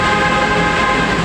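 An MRT train at Ortigas station in Manila, a loud steady rumble and hiss that stays even and fills the whole stretch, close by, with no voices.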